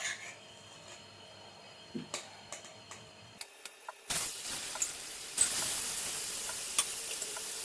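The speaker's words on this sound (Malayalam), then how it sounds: "ഈ പെരട്ടി വെച്ചിരിക്കുന്ന മീനൊന്ന് വറുത്തെടുക്കണം." Marinated tuna pieces are fried in coconut oil in a kadai: a few soft clicks and taps, then a sudden loud, steady sizzle that continues close up to the end.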